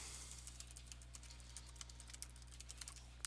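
An email address being typed on a computer keyboard, a quick run of light, evenly spaced key clicks, close and fairly soft, with no talking.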